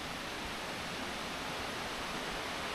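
A small waterfall in a tropical rainforest rushes in a steady, even roar of falling water, heard close by and alone for a few seconds.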